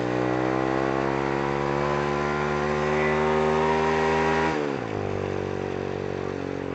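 A motorcycle engine idles steadily and close by, with a strong harmonic hum, then drops to a lower pitch near the end as it settles into a rougher idle.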